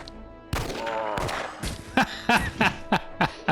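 Gunfire in Jagged Alliance 2: a loud opening blast and rumbling burst, followed by a rapid rhythmic series of six or seven sharp shots.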